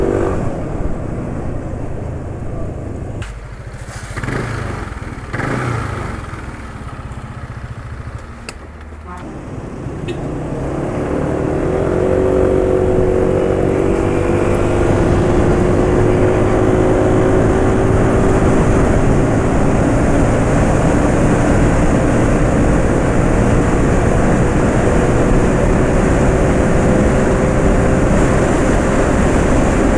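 A motorcycle engine running on 20W50 oil after 36 km idles steadily up close, a constant low rumble with a few handling knocks early on, then a smoother, louder drone.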